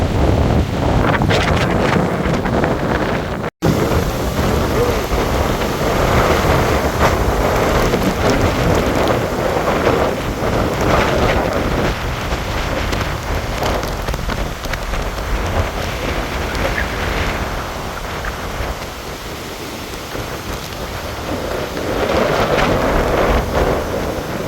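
Hurricane Idalia lashes the St. Petersburg Pier in Florida with loud, continuous roaring wind and heavy rain, gusts buffeting the microphone throughout.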